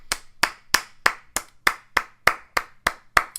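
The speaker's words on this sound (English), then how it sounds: "So round of applause for Luke." Applause of about eleven sharp, evenly spaced hand claps, close and crisp, alone with no voices.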